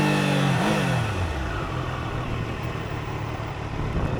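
A 2024 Triumph Daytona 660 motorcycle engine swells briefly and then settles into a steady drone, heard at speed over heavy wind and road rush with no voices.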